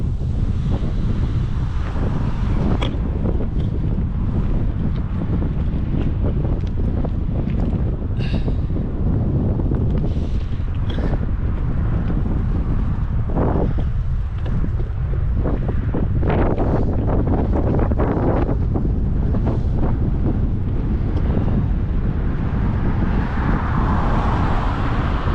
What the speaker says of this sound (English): As you can hear, the wind's picked up a little bit now